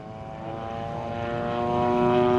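A 35cc gas engine powers a Seagull Models Gilmore Red Lion RC airplane in flight, its steady propeller buzz holding a clear tonal whine that slowly grows louder as the plane draws nearer.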